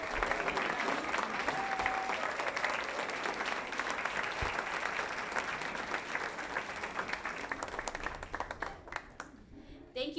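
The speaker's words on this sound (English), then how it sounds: "will our 14 distinguished retirees please rise for your very much deserved round of applause" Sustained applause from a banquet audience honoring retirees, a dense patter of many hands clapping steadily for about ten seconds before thinning out at the end.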